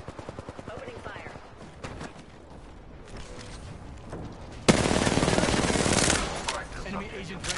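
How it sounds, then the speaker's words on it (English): Gunfire rattles through a video game shootout in rapid automatic bursts. A denser, louder volley breaks out partway through, then the shots trail into scattered fire. "Opening fire."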